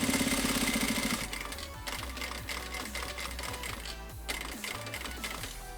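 A sewing machine runs in short bursts, stitching along a folded fabric strip for an apron, with a steady mechanical chatter that stops and restarts several times, close by.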